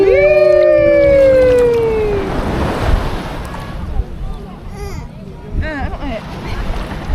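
Waves washing onto a beach in Pangasinan, a broad rushing surge with wind buffeting the microphone, heard close while excited voices talk and shout over it.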